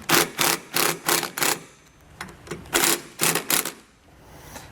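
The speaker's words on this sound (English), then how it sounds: "we'll zip it down just to kind of keep it in place." A zip tie is ratcheted tight around a 7-wire to 6-wire diode wiring kit on a 2016 vehicle, giving a run of sharp, loud clicking bursts in two quick groups with short pauses, no talking over it.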